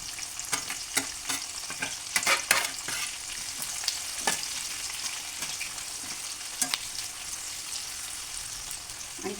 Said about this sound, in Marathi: आणि आता आपण हा कापून ठेवलेला कांदा छानपैकी तांबे सोडीपर्यंत भाजून घ्यायचा आहे.